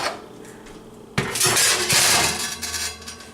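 A tray of iron scones goes into an oven: a quiet start, then a sharp metallic clank followed by a second or two of rattling pan and rack noise that fades out.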